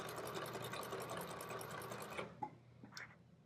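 Sewing machine stitching a boxed cushion during upholstery work, a close rapid steady whir for about two seconds that then stops, followed by a few faint handling clicks.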